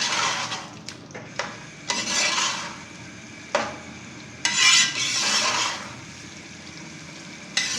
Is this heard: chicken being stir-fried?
yes